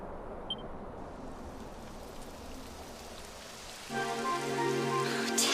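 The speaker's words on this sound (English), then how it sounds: "Typical. It would have to go and start raining, wouldn't it?" Steady rain patters continuously in Dragon Quest XI, a soft, even hiss of falling drops. Tonal music swells in partway through.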